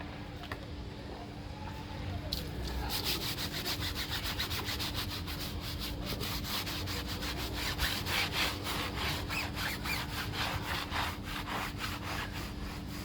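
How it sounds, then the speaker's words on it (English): Tyres on a BMW M5 are scrubbed with a brush, a rapid, even run of rasping strokes that starts after two seconds and continues steadily over a low background hum. "we'll start off by scrubbing the tyres"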